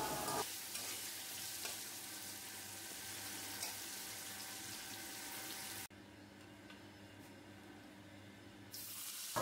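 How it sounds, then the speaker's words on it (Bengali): Potatoes fry in a pan of oil with salt and turmeric, giving a steady close sizzle with occasional stirring scrapes and no talking. "আমি নুন আর হলুদ দিয়ে আলুটা ভালো করে ভেজে উঠিয়ে নেব"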